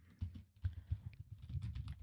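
Computer keyboard typing, a short burst of soft, quiet, irregular key clicks.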